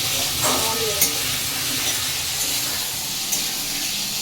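Potato and papaya stir-fried with spices in a pan hiss in a steady, close sizzle, with a few soft spatula knocks scattered through.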